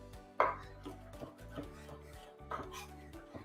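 Vegetables being chopped for a simple stir fry: a few quiet knife-on-board knocks, the sharpest near the start and another about two seconds later, faint against a low background.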